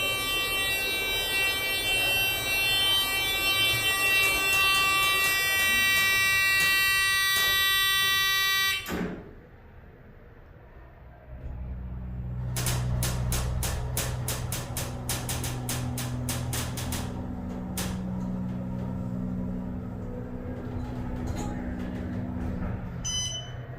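An Otis hydraulic elevator motor runs at the Bullpen Gate of Citi Field in Flushing: a loud, buzzing harmonic whine holds, then cuts off abruptly; after a short lull a lower droning hum returns with bursts of rapid clicking.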